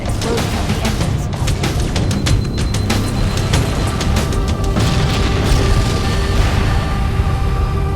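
Massive engine reactor explosion aboard a starship in the video game Halo: Combat Evolved, a dense continuous roar of booming blasts and rumbling debris with sharp bursts scattered through, loud and sustained throughout.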